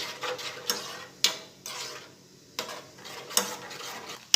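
Spoon scraping and clinking against a pan while stirring momo chutney of garlic, tomato ketchup, chili and salt as it warms; soft repeated swishes broken by a few sharp metallic taps, close and quiet with no talking.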